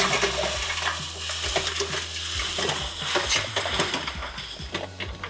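Bucket of sand and cement mix tipped into a running cement mixer, a gritty scraping pour with rhythmic clanks as the drum turns, close and steady.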